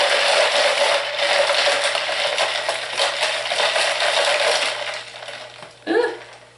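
Hot-process pine tar lye soap with lard being stirred in a crockpot, a continuous thick scraping and churning with a brief clink near the end.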